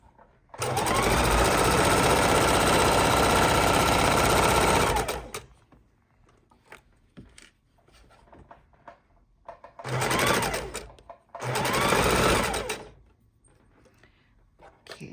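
Sewing machine stitching fabric for a tote bag, a loud, close, steady motor hum running for about five seconds, then quiet handling and clicks, followed by two shorter stitching bursts.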